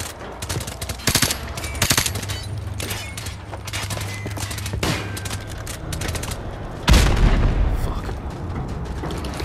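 Dense rapid gunfire from Call of Duty Modern Warfare Remastered, bursts of automatic shots crackling throughout with a heavier boom near the end, loud and continuous with no talk.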